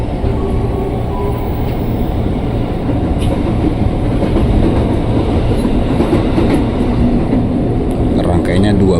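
A 12-car KRL Commuter Line train bound for Manggarai rumbles into Cawang station in Jakarta with clattering wheels and a continuous low roar, loud and close, as it rolls along the track.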